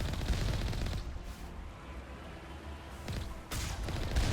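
Gunfire in the Mass Effect video game, a steady barrage of loud shots across the whole span, with a denser burst near the end.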